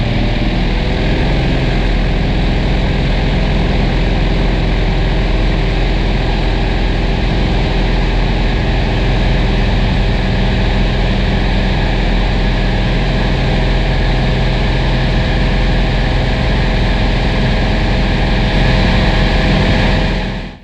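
Mooney light aircraft on its takeoff run, a loud, steady propeller engine drone filling the whole clip with broadband cabin roar and no voices.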